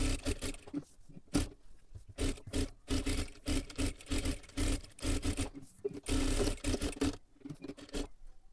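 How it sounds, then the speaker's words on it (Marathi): A sewing machine stitches the lining of a sleeve in short, close runs of rapid mechanical whirring, stopping and restarting repeatedly with brief pauses between bursts. "आता इथे पाठीमागच्या सुद्धा बाजूला आपल्याला अस्तरला पूर्ण शिलाई मारून घ्यायची आहे"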